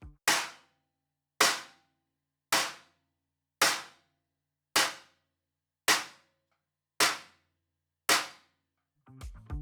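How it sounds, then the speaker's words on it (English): A Zildjian A Custom 12-inch splash cymbal stacked on a Sonor Kompressor snare in medium tuning is struck eight times at an even pace, each hit a sharp, trashy clap that decays quickly into silence. "He hits right on the cymbal and gets kind of a clap sound."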